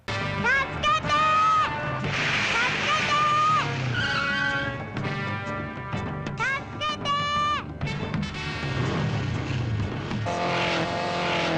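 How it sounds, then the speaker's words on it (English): Loud engine revving and squealing tyres race by in a 1978 Japanese Spider-Man television episode as a truck chases a child, with rising whines and skids over a dramatic soundtrack. "he can't outrun that truck"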